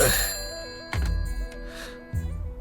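A telephone rings with a repeating electronic tone in a comedy scene, loud at first, then recurring in short bursts with brief pauses between.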